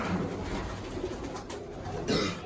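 Teddy, Andhra and Madrasi pigeons coo softly in a pigeon loft, with repeated low throaty calls and light rustling, close and moderately loud against a quiet background.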